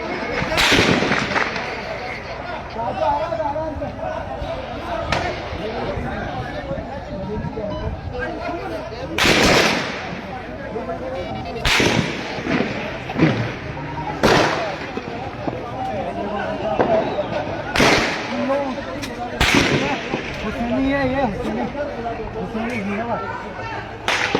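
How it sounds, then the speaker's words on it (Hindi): Heavy gunfire in Gilgit city during a security alert, with repeated sharp loud cracks and bursts at irregular intervals over a constant noisy background, while people talk throughout. "इस वक्त शदीद तरीन फायरिंग हो रही है"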